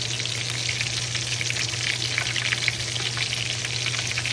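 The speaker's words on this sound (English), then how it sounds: "get into that grease sizzle for just a minute" Double-breaded chicken tenders frying in hot grease, a steady dense sizzle and crackle with a constant low hum beneath, close and loud with no talking.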